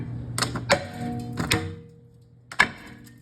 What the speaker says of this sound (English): It's going to need a couple of knocks with the hammer.